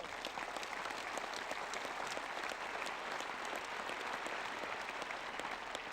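A tennis crowd at the 1977 Australian Open women's final applauds during the trophy speech, a faint, distant and steady patter of clapping with no voices over it.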